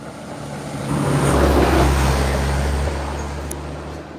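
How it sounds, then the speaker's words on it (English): A large police truck passes close on a city street, its deep engine rumble and roar swelling to a peak and fading away, heard alone without talk. "Police truck, big one."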